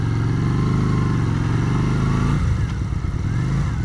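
A Benda Napoleon Bob 250 bobber-style motorcycle engine runs steadily up close, with a shift in tone partway through as a gear change goes in smoothly, the engine note continuing afterward.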